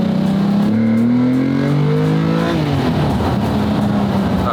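A manual V12 Lamborghini accelerates hard, its engine note rising steadily through the revs, loud and close, then easing off with a rougher roar near the end, with no talking over it.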